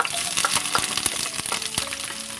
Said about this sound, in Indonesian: Tunggu sampai minyak panas. Masukkan bawang merah